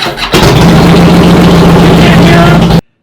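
Harley-Davidson Milwaukee-Eight motorcycle engine idling steadily and loudly up close, a deep continuous rumble that starts after a brief quieter moment and cuts off abruptly near the end.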